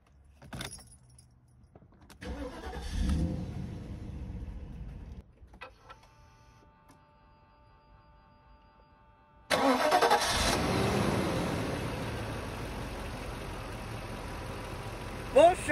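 Keys jangle, then a Mercedes M119 V8 cranks and briefly turns over, followed after a pause by a firm start that settles into a steady, loud, close idle.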